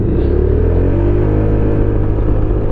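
A Honda ADV scooter engine revs up close and loud, its steady drone climbing in pitch as it accelerates with no break and no voices.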